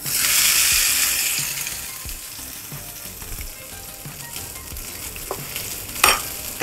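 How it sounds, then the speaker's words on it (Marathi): Hot Marathi phodni of oil, hing and curry leaves poured over chutney bursts into a loud sizzle that fades into steady crackling frying, with a sharp spatter near the end. "आता ही फोडणी आपण या चटणीवर घालूया"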